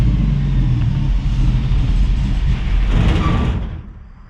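A 1965 Ford Mustang restomod with a suspected carburetor problem rumbles as its engine runs, loud and close, with a brief rise in revs before the sound fades out at the end.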